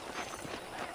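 Horse hooves clip-clop in Red Dead Redemption 2, a steady trotting rhythm mixed into a dense wash of game ambience and music, with no voices.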